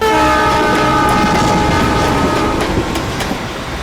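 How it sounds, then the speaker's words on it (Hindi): A train bound for Delhi rumbles loudly and steadily, a dense roar with a faint rhythmic clatter from the rail cars that eases slightly toward the end, with no voices. "इसीलिए हम दिल्ली की ट्रेन में चढ़ गए"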